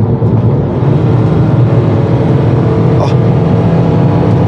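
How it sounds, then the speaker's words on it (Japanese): A Toyota TownAce camper van accelerating on the highway, with a loud continuous engine and road drone heard from inside the cabin, holding steady throughout. "でこの状態でちょっと踏み込んでみます。 加速できるか。"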